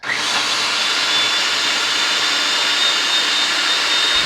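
An electric hand mixer whirs through sweet potato pie filling with a loud, steady high-pitched motor whine that starts at once and holds evenly, with no talking.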